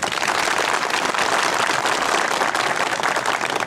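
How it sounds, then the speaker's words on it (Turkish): A crowd at a village land title deed ceremony in Pelitalan applauds a guest mayor of Malatya Battal Gazi, with steady, dense clapping throughout. "Malatya Battal Gazi Belediye Başkanımız da aramızda bir alkış rica ediyoruz."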